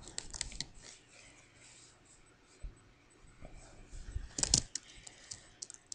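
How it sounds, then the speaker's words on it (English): A sugar glider walks over a computer keyboard, making faint, scattered key clicks and taps with a louder burst near the end; a quiet voice speaks. "You like typing on the computer?"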